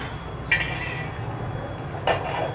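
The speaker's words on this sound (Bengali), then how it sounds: "আমি পনিরটা দিয়ে দিচ্ছি এবারে।" Paneer going into a pan of masala while cooking doi paneer, heard as two short clinks of a utensil against the pan over a steady low sizzle, with no talk.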